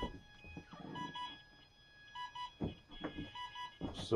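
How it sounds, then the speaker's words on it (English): Electronic speed controller in an RC airplane beeping on power-up as the receiver battery is connected: short thin tonal beeps repeating at intervals over faint background, quiet and close with a few small clicks. "the ESC is going to beep like that"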